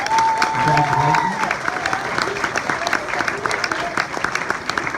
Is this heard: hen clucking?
no